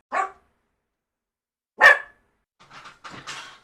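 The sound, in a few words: dog barking and growling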